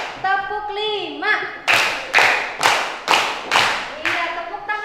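In an elementary school classroom, chanted counting gives way to five crisp unison claps from the whole class, evenly spaced and loud, with voices picking up again at the end.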